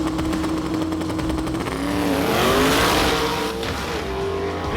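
A drag race car built from a former Corvette, now a monster engine in a cage, roars past at a race event, its loud engine note climbing and sweeping as it accelerates by.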